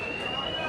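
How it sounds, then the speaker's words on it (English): A fire alarm sounds as a steady high electronic tone in a hotel arena during a pool championship semi-final, with a commentator talking over it. "In the very first frame, the fire alarm has gone off."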